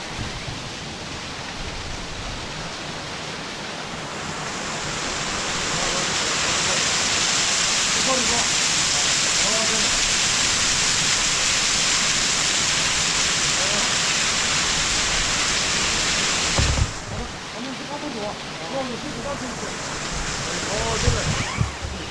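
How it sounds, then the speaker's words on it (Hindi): Onti waterfall in Coorg pours in a steady, loud broadband roar that swells after a few seconds and holds, with a brief dip and shift near the end as the listener moves closer. "या देखो वाटरफॉल"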